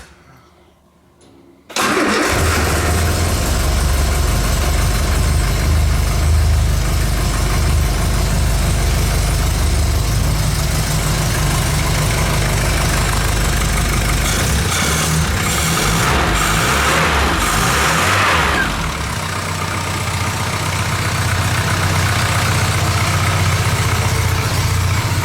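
A Classic Mini 1100 engine in mid-rebuild cranks and catches after a brief quiet moment, then settles into a loud, steady idle close to the microphone for the rest of the time, with a slight dip in revs toward the end.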